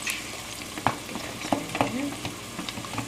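Onions, garlic and serrano chilies sizzle steadily in a pan, a close, continuous frying hiss broken by occasional scrapes and clicks of stirring.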